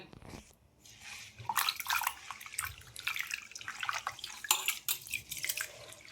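Ration rice being rinsed in a bowl of water for dosa batter, with steady close sloshing, swirling and splashing as grains are rubbed and stirred, at a moderate, continuous level with no talking.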